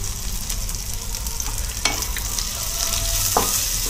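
Ginger garlic paste and cumin fry with onions in a pan, a continuous close sizzle with a few brief scraping stirs, no voices.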